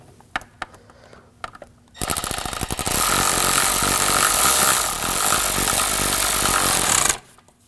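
On a 2007-2013 BMW 328i 3.0L inline-six, a pneumatic or power ratchet tightens a hose clamp in a loud, dense burst of rattling whir lasting about five seconds, with a few faint ticks before it and a sudden stop after.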